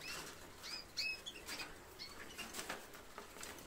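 Soft wings flutter and flap in quick bursts, with faint high chirps from small birds nearby; no talking.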